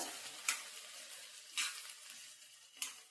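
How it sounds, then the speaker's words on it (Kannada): Banana stem stir-fry frying in oil in a pan, a soft steady sizzle with three brief louder bursts of stirring or tossing spaced about a second apart, no voices. "ಹಂಗೆ ಎಣ್ಣೆಲೆ ಫ್ರೈ ಮಾಡಿದ್ದೀನಿ."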